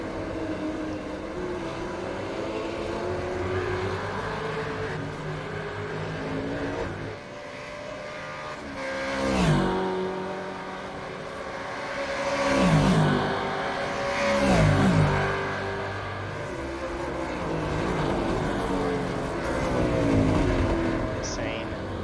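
Race car engines in an iRacing sim race of the Super2 Series at Sandown International, a steady layered drone with several rising and falling revs as cars pass close, running continuously under a commentator's voice.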